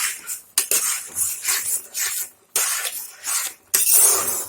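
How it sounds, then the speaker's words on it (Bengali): Carrot halwa with sugar being stirred in a pan: a metal spoon scrapes and clinks against the pan in repeated strokes with short pauses, close and fairly loud. "চিনিটা এখন আমি দিয়ে দিব। ভালো করে আবার নাড়িয়ে নিব।"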